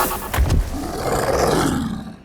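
A deep, powerful lion roar swells and rumbles for about two seconds, loud and close, then fades away.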